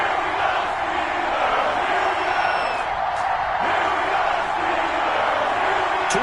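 Steady stadium crowd roar in an NFL football video game before a Denver Broncos versus Pittsburgh Steelers matchup, a continuous loud wash of cheering and whoops with scattered shouts throughout.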